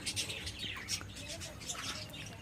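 Budgerigars chirp in a busy, continuous twittering chatter of short high calls, moderately close and steady throughout, with no talk over them.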